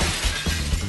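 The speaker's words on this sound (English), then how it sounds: "it doesn't go through, it just smashes the glass" Thin, fragile antique glass smashes when struck with a needle, a loud, close, broadband crash that fills the brief moment with dense shattering noise.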